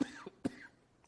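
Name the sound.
cough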